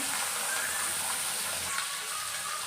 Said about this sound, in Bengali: তেল গরম করে নেওয়ার পরে দেখো আমি এখানে মাছ ছেড়ে দিচ্ছি